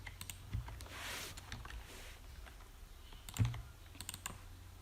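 Typing on a computer keyboard while coding, a quiet run of soft key clicks in short bursts with a few louder taps, close and alone with no talk.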